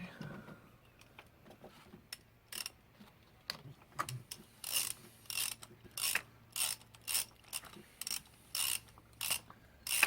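Socket ratchet tightening fuel injector bolts on a Holden VZ Adventra, a run of short rhythmic clicking bursts close by, getting steadier and louder toward the end, with no talk.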